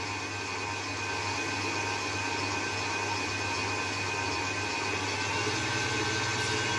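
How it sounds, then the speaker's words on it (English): Electric mixer whisking sponge cake batter, a steady motor whir with a low hum running continuously and evenly throughout, fairly close, with no talking. "how the sound of the mixer is kind of really cool to listen to, isn't it?"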